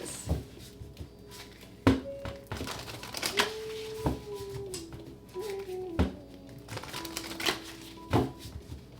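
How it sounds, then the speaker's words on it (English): Tarot cards are shuffled and tapped in a quiet room, giving a series of sharp irregular clicks and riffles with faint tonal hum between them. "One last shuffle."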